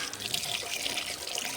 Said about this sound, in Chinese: 这房间后面有水龙头，可以洗洗脸